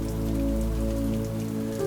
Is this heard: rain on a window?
yes